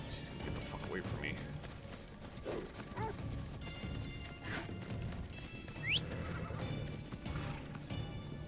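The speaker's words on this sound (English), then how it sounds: "she's gonna hop on a horse" In Assassin's Creed Odyssey, a horse whinnies sharply and hooves clip-clop at a gallop over game combat clatter and crashes, with a voice talking over it.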